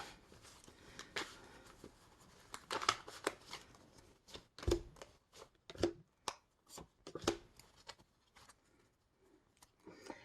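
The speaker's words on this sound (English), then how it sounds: "I'm going to pull a couple cards on that one and clarify that one further" Tarot cards are handled in a quiet room: soft riffling and shuffling, then a series of sharp snaps and slaps as cards are pulled and laid down, close and intermittent, with no talking.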